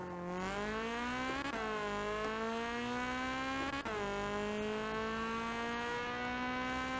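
A racing car engine in the video game Assetto Corsa revs high and steady, with two sharp gear-shift dips as the whine briefly drops and climbs again, loud and continuous.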